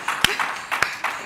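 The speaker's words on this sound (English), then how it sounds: "I need to clap you" A few sharp, close hand claps ring out at an irregular pace during a health ministry physical activity launch, with speech running between them.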